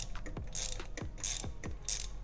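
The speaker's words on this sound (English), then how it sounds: "we're just basically turning it until the spark plug is loose" Repeated ratchet clicking from a socket wrench backing out a spark plug on a 2014–2019 Toyota Corolla 1.8L engine, close and crisp, with several distinct swings of the handle interspersed with brief bursts of hiss.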